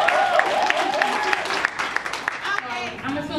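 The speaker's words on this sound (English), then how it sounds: "Can I get another hand clap?" An audience at a women's empowerment event claps in a steady, dense burst. The sound is close and continuous, with voices mixed in.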